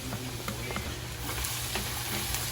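Garlic sautéing in hot oil for fried rice, with a soft continuous sizzle and faint crackles, close and fairly quiet, without talk.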